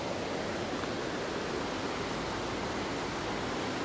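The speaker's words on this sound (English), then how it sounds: "I'm sure you can hear in the distance the rushing river." Steady, broadband rushing of a river in Sidemen, Bali, a constant wash of noise with no breaks, heard from a moderate distance.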